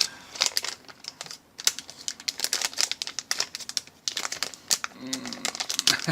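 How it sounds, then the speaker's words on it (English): Plastic packaging bag around a Keyestudio Honeycomb Micro:bit kit board being ripped and crinkled open, a close, continuous run of sharp crackling rustles and tears with a few brief pauses, no talk over it. "I might be ripping this bag."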